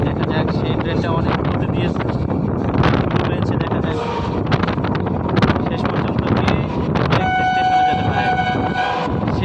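Recorded aboard a train racing another train: it rumbles along steadily with wind buffeting the microphone, and a sustained horn blares near the end.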